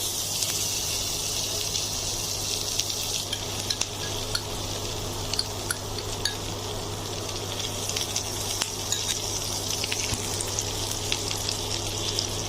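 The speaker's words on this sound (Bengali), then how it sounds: "আমার প্যানটা গরম হয়ে গেছে এবার আমি দিয়ে দিচ্ছি বাটার" Butter hisses and sizzles steadily in a hot pan while a chicken biryani is cooked. Fine crackles and pops sit over a constant frying hiss, a low hum runs beneath it, and no one speaks.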